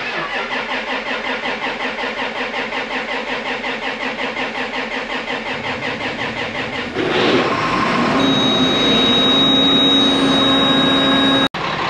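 An engine cranks with a rapid rhythmic churning for several seconds, then catches and settles into a loud, steady running roar.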